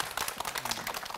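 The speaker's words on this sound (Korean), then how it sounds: "박수 한번 주세요." An audience at a lecture claps in quick, crisp strokes for a brief burst, close and fairly dense throughout.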